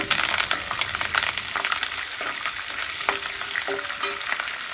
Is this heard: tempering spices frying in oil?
yes